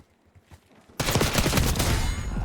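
A gun in Call of Duty Black Ops 6 opens up in sustained rapid automatic fire after a second of quiet, loud and close, continuing steadily to the end.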